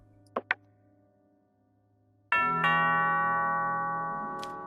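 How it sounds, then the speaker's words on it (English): A doorbell rings inside the video game Judgesim: a couple of soft clicks, then a loud two-tone ding-dong chime that rings out and slowly decays. No one speaks. "Doorbell."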